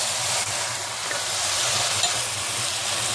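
Shredded cabbage stir-fries with mixed vegetables in a pan over a medium flame, giving a steady, even sizzling hiss close by with no talking.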